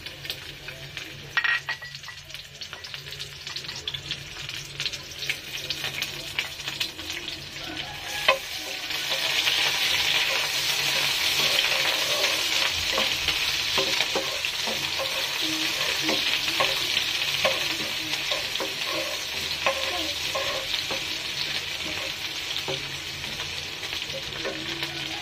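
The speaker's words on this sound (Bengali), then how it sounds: "তেলটা গরম হয়ে গেছে, এর ভিতর দিয়ে দেব পেঁয়াজ কুচি।" Chopped onion hits hot oil in a wok with a sudden loud burst of sizzling partway through, after quieter stirring and light clinks, then a dense, steady hiss continues to the end.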